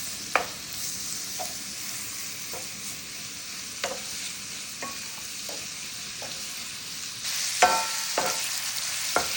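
Chicken pieces fry in a little corn oil in a pan, a steady sizzle running throughout with scattered scrapes and clinks as a utensil stirs them, louder stirring toward the end.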